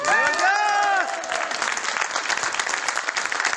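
Audience applause at a business seminar. A voice briefly leads into a dense, steady wash of clapping from a crowd that continues evenly to the end.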